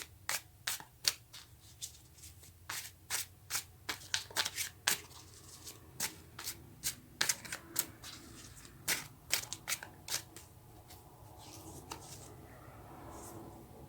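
Tarot cards being shuffled and drawn, a long run of crisp, quick riffling and flicking bursts in an uneven rhythm, close and fairly quiet, with no voice over it.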